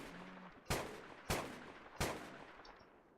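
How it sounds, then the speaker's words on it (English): Three separate gunshots ring out in RimWorld as colonists fire on an Alpha Buffalo, each a sharp crack with a short fading tail, spaced about two-thirds of a second apart over quiet game ambience. "Let's fire at Alpha Buffalo."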